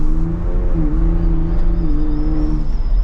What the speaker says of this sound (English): this thing makes some noise, and you can hear the turbo